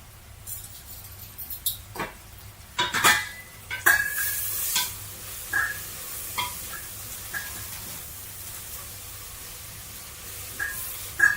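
Leeks sweat and sizzle in a soup pot for potato bacon and leek soup, a soft steady frying hiss broken by clicks and scrapes of small tongs stirring, close and fairly quiet.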